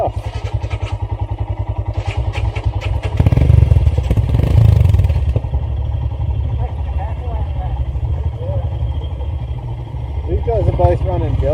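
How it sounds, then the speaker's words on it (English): Royal Enfield Himalayan motorcycles fitted with Deltavix exhausts ride off together, a loud rapid single-cylinder thump that revs up sharply, then settles into a steady close engine drone, with people speaking over it throughout. "These guys are both running Deltavix exhaust, which is pretty loud to listen to be honest, but not the worst."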